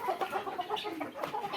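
Tiger-breed chickens on a farm cluck in quick, uneven bursts while being fed in the morning, several birds heard close together and moderately quiet.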